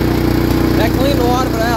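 A Simplicity riding mower engine running close and loud with an uneven, rough note, someone talking over it.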